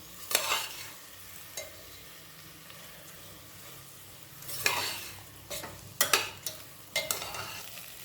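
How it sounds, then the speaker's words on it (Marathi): Rice with spices stirred in a frying pan for masale bhaat, giving sporadic scraping, rustling strokes in short bursts over a low, steady sizzle, close and fairly quiet with no voices. "हे सर्व परतून झाल्यावर तांदूळ घालायचा आहे हलवून घ्यायचं आहे"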